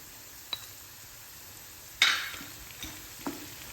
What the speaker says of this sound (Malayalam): ഇനി നമ്മൾ എടുത്ത് വെച്ച ചുവന്നമുളക് ഇടുന്നു.